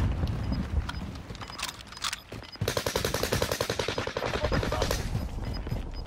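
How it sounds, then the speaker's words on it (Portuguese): Rapid automatic gunfire in a Call of Duty Vanguard Warzone battle royale match, including StG and Type 100 weapons, rattles in dense bursts close by, with a steady run of shots from the midpoint onward over a noisy game background. "Estão atirando em mim."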